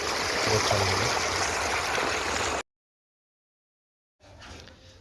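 Water flowing through field irrigation drains for a kunduli (ivy gourd) plot, a steady rushing, trickling wash heard close, broken by a sudden silence before a fainter return.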